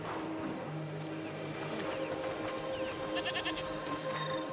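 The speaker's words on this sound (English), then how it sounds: "What's over there? Goats!" Goats bleat in a rural outdoor scene from the video game A Plague Tale Requiem, a few moderate calls over a steady ambient bed of game sound.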